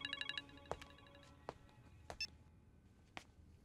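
A telephone rings in an office-like scene in a Telugu comedy film, with electronic ring bursts at the start followed by scattered quiet clicks and thumps.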